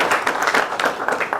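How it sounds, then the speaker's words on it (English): A university innovation week audience applauds, with a dense burst of scattered clapping from a crowd, moderately loud and close, sustained through the whole short moment. "You can clap for him."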